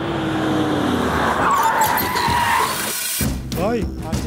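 A car in a dubbed action movie scene pulls up with loud engine noise and a sharp tire squeal, then stops abruptly; film sound effects and brief voices follow.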